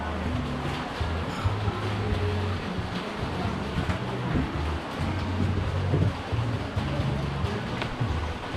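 Tad Yueang waterfall in Champasak, Laos, pours with a steady broadband rush of falling water, continuous and fairly close, with faint tonal sounds underneath.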